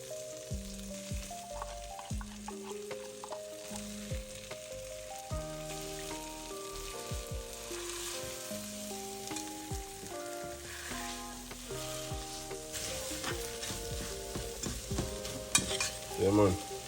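Corned beef, Jamaican-style bully beef, sizzling and crackling steadily in a pan while being stirred, with scraping and clinks of the utensil throughout and faint background music, no voices.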